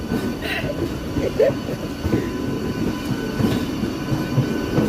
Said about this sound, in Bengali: এই দেখো কিরকম পাশাপাশি ট্রেন চলতেছে